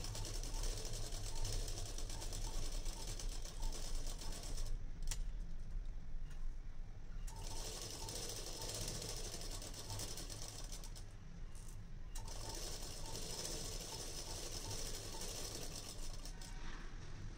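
A sewing machine runs a straight quarter-inch stitch along a frill on a saree, its rapid mechanical clatter continuous and close, briefly easing in two short pauses.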